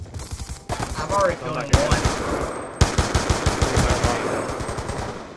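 Rapid bursts of automatic gunfire in the video game Black Ops II, loud and close, in dense rattling strings with short pauses between them, while a voice briefly speaks over the shooting.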